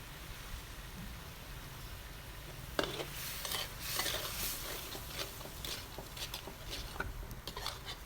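Curry paste is stir-fried in a pan for catfish stir-fry, starting as a quiet sizzle and then becoming a busier run of scraping and tapping strokes against the pan.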